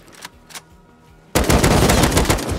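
Loud sustained automatic fire from an AK assault rifle in the survival game Rust bursts in after two faint early shots, roaring continuously to the end without speech.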